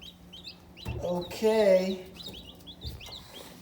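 Newly hatched chicks give high, thin, repeated peeps close by, with a louder rising call in the middle and handling noises underneath, and a person speaks briefly.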